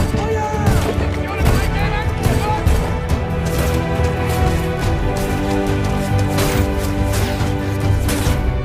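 Battlefield gunfire in a World War I setting, a dense fusillade of shots and booms running steadily under music and shouting voices throughout.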